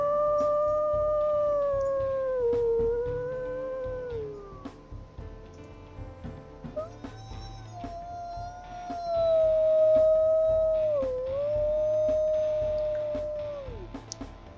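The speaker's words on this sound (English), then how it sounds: "She got some higher pitched howls." Two long, drawn-out wolf howls from the video game WolfQuest, the second higher and slightly squeaky, rise and fall in pitch with a low ambient hum beneath.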